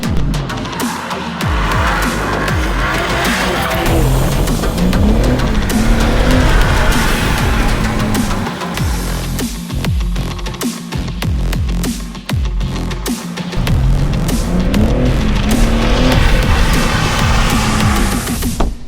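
A 2021 BMW M3 Competition drifting at a steady, loud pitch, its engine roaring and rising in pitch while the tires squeal continuously for the whole stretch, with no talking.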